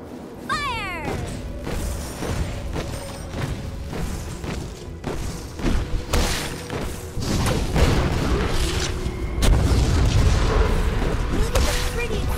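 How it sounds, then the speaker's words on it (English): Explosions and impact booms from a League of Legends match, loud and continuous in a dense game mix, with whooshing effects and a rising swell of blasts near the end. "Look at the pretty explosion!"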